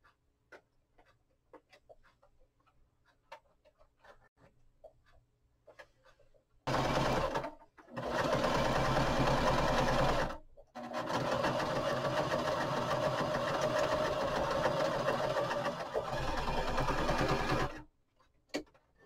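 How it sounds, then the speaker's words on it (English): A sewing machine runs steadily in two long stretches with a brief pause between, a close mechanical whirring after some quiet handling noises. "let's run this over to my machine and get this sewn up"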